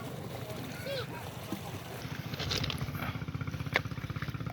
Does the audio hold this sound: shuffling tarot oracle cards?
no